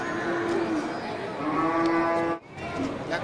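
Brangus breeding cows, one with her calf, moo in long drawn-out calls at a cattle market, loud and steady across the whole stretch with only a brief drop near the end.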